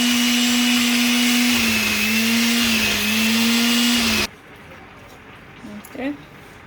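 A blender purées cooked black beans with a loud, steady motor whir that holds for about four seconds, then cuts off abruptly. A few faint clinks and rustles follow in a quiet kitchen.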